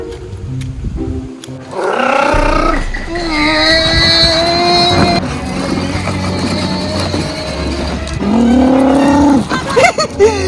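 A Toyota Hilux pickup truck drives past close by, its engine rising and falling in a steady rumble under faint voices and household sounds.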